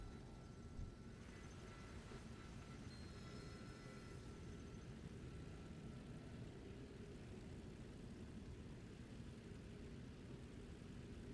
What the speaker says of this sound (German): springt in den Prototyp der ersten Staffel. Das ist dieses Flugzeug hier.